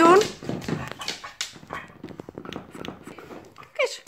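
A dog with a chew bone in its mouth gives muffled barks and whines, loudest at the start and again near the end, under a person talking nearby.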